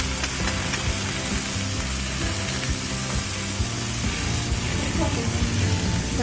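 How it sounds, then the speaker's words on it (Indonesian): Onions and vegetables such as water spinach fry in a hot pan, a loud continuous sizzle with scraping stirring sounds close up, and someone speaks briefly over it. "Yang penting ini bawangnya digoreng."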